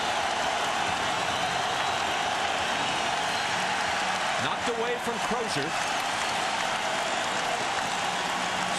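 A basketball crowd roars at Staples Center during Game 6 of the 2000 NBA Finals, Pacers at Lakers, a dense constant wash of cheering with a brief rise in the middle, under a commentator's voice.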